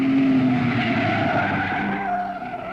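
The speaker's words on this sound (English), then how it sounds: "Another Ferrari is coming through the field." A Ferrari race car in the 1953 Mille Miglia road race roars close by at speed, a loud continuous engine howl with a tire-skid screech, fading slightly as it pulls away.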